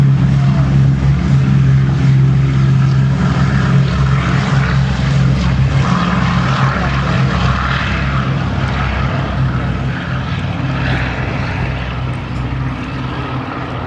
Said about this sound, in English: Rolling off the hard runway now, one of the great favourites, the final display item of this autumn air show, Boeing B-17 Flying Fortress Sally B.